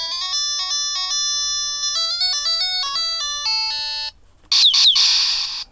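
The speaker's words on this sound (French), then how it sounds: "on va faire un petit off et écouter la musique" Beeping electronic music from the 1980s Western Bar handheld game: a thin, piercing square-wave melody of quick stepped notes, then a short pause and a harsh buzzing sound-effect burst.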